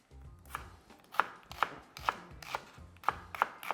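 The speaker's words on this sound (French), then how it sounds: "Je vais passer à mon échalote que je vais éplucher tout simplement. Et on émince ça." A knife chopping a peeled shallot on a cutting board, with about ten crisp, close knocks in a steady rhythm that speeds up toward the end. There is no voice over the chopping.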